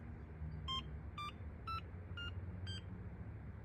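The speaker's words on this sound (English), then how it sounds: "you're going to hold it until you hear the 4 beeps" Five short, evenly spaced electronic beeps from key programming on a Talaria xXx, clear and high-pitched, over a low background hum.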